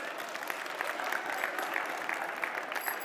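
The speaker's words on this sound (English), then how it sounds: "Give them a round of applause," A DEF CON crowd gives a steady, somewhat distant round of applause as a volunteer joins a magician on stage, continuous clapping with no talk.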